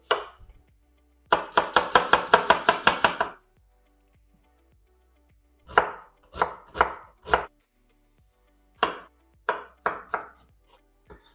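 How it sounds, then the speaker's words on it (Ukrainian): A knife chops garlic and onion finely and rapidly on a cutting board in quick bursts of close, crisp taps, pausing between runs of strokes. "Дрібненько нарізаю часники цибулю."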